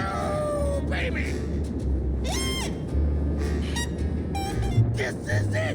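Meowing of a cat in the Grim Fandango video game, a few clear, fairly close mews and a longer wavering cry over a continuous game soundtrack hum.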